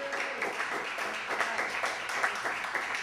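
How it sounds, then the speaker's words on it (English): Scattered applause from a small audience at a library poetry reading, faint and continuous for a few seconds with no clear voices over it. "let's give a great round of applause there"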